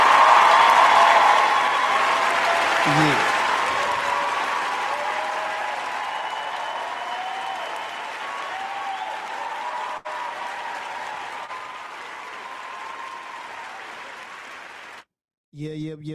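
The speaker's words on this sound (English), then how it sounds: "we gonna give him a round of applause" A live podcast audience applauds, a steady, dense clapping wash that is loudest at the start and slowly fades over about fifteen seconds. A voice speaks briefly near the beginning, and the sound cuts off abruptly near the end.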